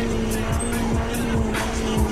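A modified Civic in the mobile game Car Parking skids and squeals its tires over a loud, continuous engine drone, with short repeated screeches as the car slides.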